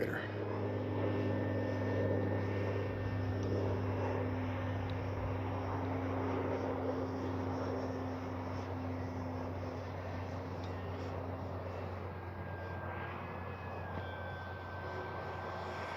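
A FlexMamba 10 G2 RC airplane flies overhead with a steady, droning electric motor and propeller hum that persists throughout, its pitch shifting slightly as it maneuvers at a moderate distance.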